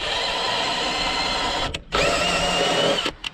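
A power drill drives a thread tap into metal while fitting side steps on a Range Rover Sport, a steady close whirring grind with two brief stops and restarts.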